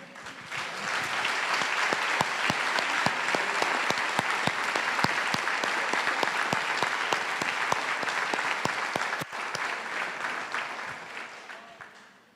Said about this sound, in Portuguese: Nós podemos aplaudir esse Deus, não é?